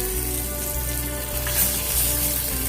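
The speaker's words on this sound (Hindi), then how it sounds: "ये अंडे को मैं अच्छी तरीके से फ्राई कर लूंगा।" Boiled eggs frying in hot olive oil seasoned with turmeric and salt give off a steady, close sizzle that holds throughout, with a brief louder spatter partway through.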